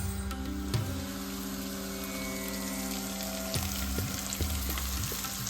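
Cabbage with ginger paste sizzles steadily in a pan on a home stove, with a constant hiss and a few light scraping taps of a utensil.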